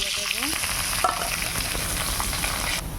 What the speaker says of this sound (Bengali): বেগুনটা ভালোভাবে ভেজে তারপর আলু ভাজাটা দিয়ে দেবো